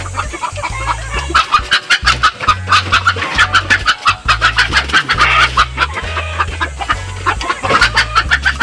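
Chickens cluck steadily and loudly inside their coop, close up, with overlapping rhythmic clucks and squawks building into agitated calls, and no speech.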